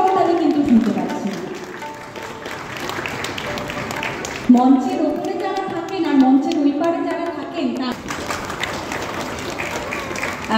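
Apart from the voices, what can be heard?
audience applause at a classical music concert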